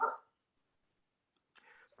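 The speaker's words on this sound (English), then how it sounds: "Pardon the dogs" Brief burst of dog barking at the start, then near silence, followed by a second yappy bark or whimpering run toward the end; close and moderately loud, indoors in a home.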